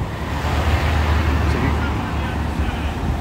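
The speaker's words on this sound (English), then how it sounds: "it would be real nice out here if that wind wasn't blowing" Steady wind blustering outdoors in downtown Birmingham, Alabama, a continuous low roar with gusty microphone buffeting throughout.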